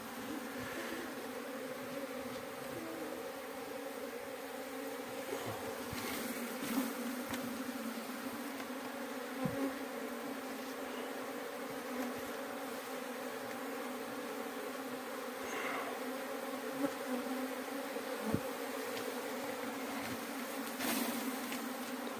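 Steady, dense buzzing of a swarm of Indian honeybees (Apis cerana indica) settled at a beekeeping site in Mandi, Himachal Pradesh, a continuous drone with occasional louder individual bees passing close.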